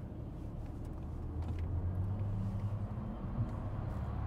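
A 2025 Audi Q6 e-tron electric car hums quietly as it speeds up, a low steady rumble with soft road noise and a faint rising drone, no voices.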